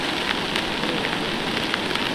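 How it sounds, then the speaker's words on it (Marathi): Loud, heavy rain pours down in a dense constant roar, with gusty wind noise and scattered sharp drop impacts close by. "वारा जामत आहे ना पाऊस तुफान पडतं"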